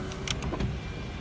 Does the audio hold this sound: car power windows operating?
yes